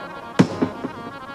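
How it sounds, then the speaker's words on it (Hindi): Firecrackers set off outdoors during a religious storytelling gathering give three sharp bangs, the first loudest and the next two progressively fainter, about a quarter second apart, each trailing off briefly. "पटाखे भी थोड़ी थोड़ी देर में चलाएं,"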